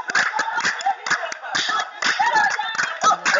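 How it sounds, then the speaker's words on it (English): Hand claps ring out during Himba singing and dancing, a steady run of sharp, close claps mixed with voices and stamping, loud throughout and slightly echoing. "the clapping of the hands and the sounds make the echo"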